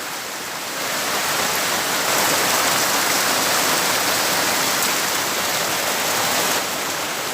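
Heavy rain pours down steadily, a dense, loud and unbroken wash of falling water with no voices over it.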